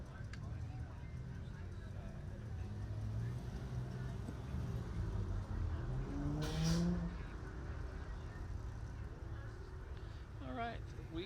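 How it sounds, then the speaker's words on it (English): Several cars pass at a McMinnville car cruise, a steady rumble of engines and road noise with one passing swell midway, heard at moderate distance over continuous outdoor background. "looking here at some of these cars going by"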